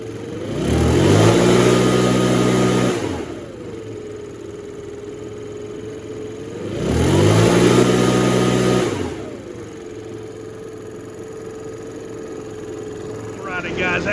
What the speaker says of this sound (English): we got that little Makita blower going, and it's running good